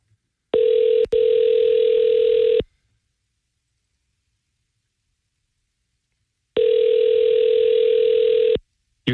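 Steady electronic ringback tone on a phone call waiting for someone to pick up, two long even beeps about two seconds each separated by several seconds of silence, clear and alone.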